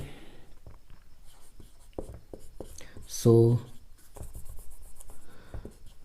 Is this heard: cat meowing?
no